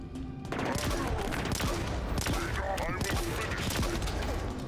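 Gunfire from a sniper rifle in Halo Infinite: a dense, loud barrage of sharp cracking shots fires steadily throughout, with faint voices underneath.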